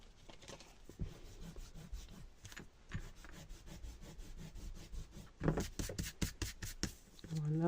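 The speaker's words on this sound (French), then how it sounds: "on va du coup gommer un peu ces traits là" Pencil lines are rubbed away with an eraser on paper for a scrapbooking page, a series of soft, close scrubbing strokes in irregular bursts that grow brisker toward the end.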